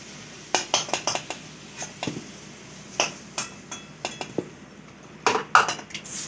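Fried potatoes being lifted out of a pan in a home kitchen, giving a series of scattered metallic clinks and scrapes of utensil against pan at close range, with no talking.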